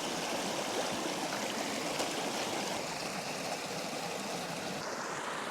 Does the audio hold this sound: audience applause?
no